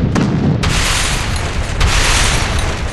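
Grenade blasts in the Real Dino Hunt game hit as a loud continuous barrage of booms, with two sharper bursts standing out against a dense rumbling backdrop.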